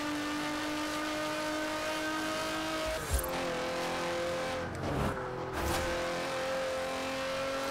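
A high-pitched BMW 850CSi V12 engine in Forza Horizon 4 drones steadily, with sharp gear shifts around the midpoint, then revs back up to a sustained whine, loud and close.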